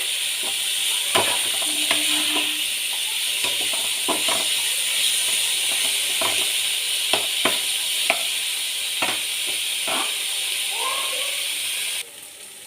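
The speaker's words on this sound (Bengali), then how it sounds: "সরু করে কেটে রাখা বেগুনগুলো দিয়ে দেব।" Shrimp and thinly sliced eggplant fry with onion and chilli in a pan, a steady close sizzle and hiss broken by sharp stirring clinks and scrapes, then fading low at the end.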